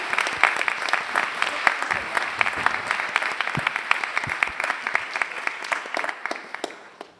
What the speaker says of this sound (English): please join me in giving another round of applause to our tribunal